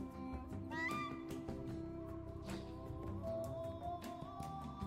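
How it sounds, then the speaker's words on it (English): A bird-like creature in the Myst III: Exile video game gives several croaking, cawing calls with squeaky rising notes over a soft ambient musical background. "Some kind of bird."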